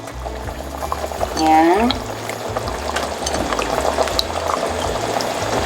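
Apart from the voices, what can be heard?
potatoes added to simmering beef kaldereta pot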